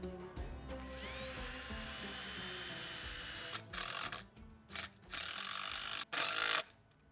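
A power drill runs almost steadily with a rising whine, then cuts out and restarts in short bursts as anchor brackets for a shed on a gravel pad are driven into the ground; fairly loud and close, with no talk.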